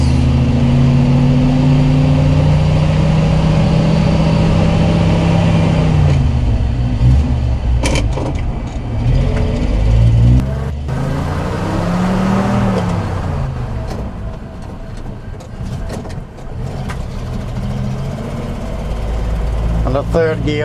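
A Volvo TP21 military radio vehicle grinds along in first gear, low range, its engine droning loud and close with shifting revs while someone talks over it.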